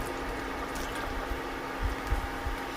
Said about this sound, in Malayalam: ഞാനൊരല്പം വെള്ളം കൂടെ ചേർക്കുവാണ്.